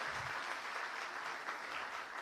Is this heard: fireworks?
no